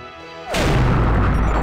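Cannon fire in a sea battle from The Curse of Monkey Island video game: a single sudden loud boom-crash that erupts after a quiet lead-in and rumbles on with a sustained low roar.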